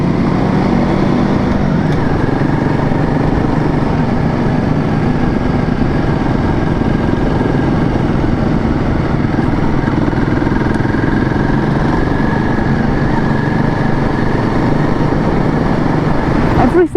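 Royal Enfield Guerrilla 450 motorcycle ridden through Barcelona city streets, its engine a steady close hum under rushing wind and traffic noise for the whole stretch.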